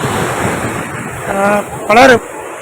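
Rough sea surf floods a coastal road in the Pulicat area, heard as a continuous loud wash of waves and wind rumble close to the microphone, with brief voices breaking in near the end.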